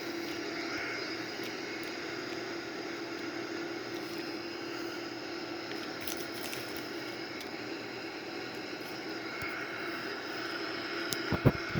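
A Boeing 787 airliner cruising at 31,000 feet, heard from inside as a steady, even engine drone and rushing air that holds throughout, with a few faint clicks near the end.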